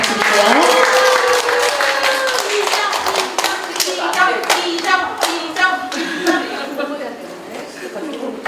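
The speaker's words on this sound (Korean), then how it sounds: "큰 박수 부탁드릴게요" Audience applause at a Jungnang village community event in December 2023, as a village activist is called to the stage; dense steady clapping with a little chatter and chuckling, loud and close, tapering slightly toward the end.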